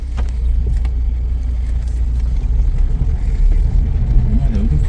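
Steady low engine rumble of a car being driven, continuous and fairly loud throughout with no talk over it.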